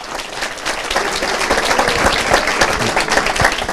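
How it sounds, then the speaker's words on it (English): An audience at a school signing-day ceremony claps steadily and fairly loudly, a dense continuous round of applause lasting the whole moment with no voices over it. "just want to give everybody a nice round of applause for Jaden Jones"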